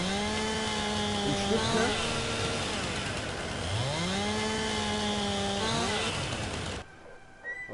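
A saw cuts through wood in long, steady passes with a rising and falling whine, loud and continuous for nearly seven seconds before stopping abruptly; a voice speaks briefly over it.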